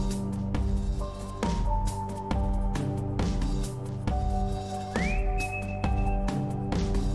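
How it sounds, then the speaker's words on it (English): Whistled melody from a character in the horror video game Lost in Vivo, set near a torture chamber, carried as steady tonal notes over a continuous sustained musical drone with regular soft pulses, fairly loud and with no talking. "I can whistle again."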